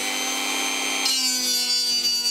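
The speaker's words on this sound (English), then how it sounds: "I'm just sanding it back slowly with a Dremel to the point where the new glass will fit in place." A Dremel slowly sands back the ring of an instrument cluster on a BMW R100CS motorcycle, giving a steady high-pitched whine with gritty rasping as the bit bites in, loud and continuous with no voices.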